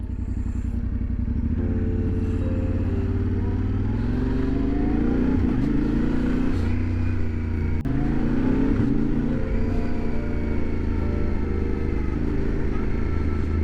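A 2025 Yamaha Tenere 700 Rally motorcycle engine drones loud and steady while riding along narrow roads, its deep rumble rising and falling gently with throttle changes and wind noise throughout.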